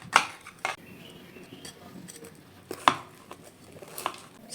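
Knife cutting through a freshly made sandwich of melted cheese between two slices of bread: a few sharp crunchy strokes, loud at the start, then scattered quieter crackles and another crisp cut near the end, close by with no talk.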